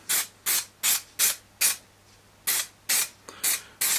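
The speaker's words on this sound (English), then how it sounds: "I'm going to lay down some more carpet adhesive" Carpet adhesive sprays over static grass scenery in about nine short, evenly spaced hissing bursts, close and distinct, with one longer gap midway.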